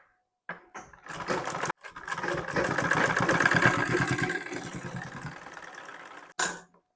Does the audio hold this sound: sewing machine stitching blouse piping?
yes